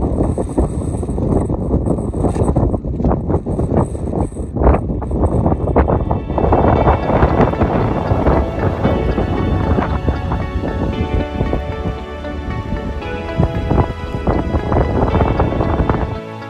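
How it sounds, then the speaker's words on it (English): Strong, continuous wind roars and buffets the microphone at a frozen Summit Lake along the Richardson Highway in Alaska, loud and unbroken throughout with heavy low rumble. "It's so windy."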